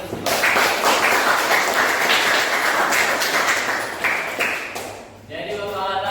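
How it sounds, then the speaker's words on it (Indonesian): Students in a mathematics class clap together in lively, sustained applause for about five seconds, which tapers off before a voice begins speaking. "Tepuk tangan dulu."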